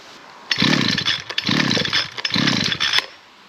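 Echo SRM-350ES brushcutter from 2013, its small two-stroke engine firing and revving in three loud rough bursts with brief dips between, close up and alone.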